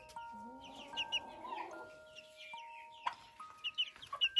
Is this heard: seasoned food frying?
no